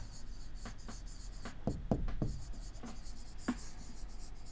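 A pen or pencil scratches across paper up close in short, irregular strokes and taps during a maths lesson on quadrilaterals, over a low steady background hum.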